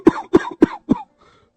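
An elderly man lying on a cot coughs four times in quick succession, close and loud, with a faint trailing breath at the end.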